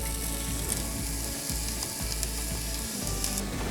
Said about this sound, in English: When our oil is nice and hot, we're going to add in our onion